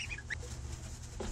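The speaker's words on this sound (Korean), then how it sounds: "태어난 지 7일 된 아기 오리들입니다." High, thin peeps from week-old ducklings chirp over a steady low rumble, a few quick calls close together near the start and another near the end.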